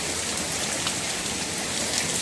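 Heavy rain drumming steadily and loudly on the roof of an auto rickshaw stuck in a downpour, heard from inside as a dense, unbroken hiss with no voices.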